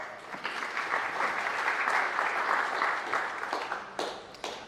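Audience applause for sponsors at an economic panel event, steady sustained clapping from a sizeable crowd over several seconds, fading slightly near the end before a final burst.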